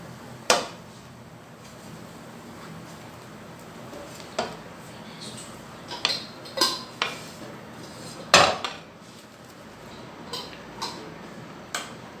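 A plate and metal utensils clink and clatter as egg toast is lifted from a tray and served in a home kitchen, with about ten sharp, scattered knocks of varying loudness over a quiet background.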